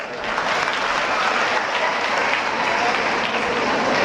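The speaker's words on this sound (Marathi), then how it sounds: "त्याच्यासाठी जोरदार टाळ्या वाजवा" Audience at a comedic motivational speech clapping loudly, a thick, sustained round of applause from a large crowd that rises quickly and holds steady throughout.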